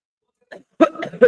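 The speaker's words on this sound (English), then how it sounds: "I'm going to cough." A short, close cough or throat-clear, a soft catch followed by two harsher bursts in quick succession.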